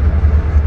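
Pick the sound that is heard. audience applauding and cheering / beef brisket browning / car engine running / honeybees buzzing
car engine running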